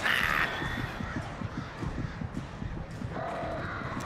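Crows caw repeatedly in the video game Alan Wake, their harsh calls sounding over a dense, noisy background with scattered thuds and a steady rumble.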